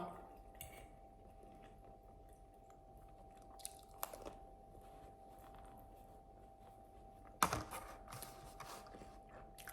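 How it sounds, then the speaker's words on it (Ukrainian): Close, loud chewing and crunching during a mukbang-style meal, with scattered clicks of cutlery or dishes and a couple of sharper crunches, all quiet and near the microphone, no talking. "вибачте, що я чавка"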